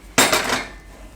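A metal pressure cooker holding two corn cobs in water is set down on a gas stove with one sharp clank, then a brief ringing fade.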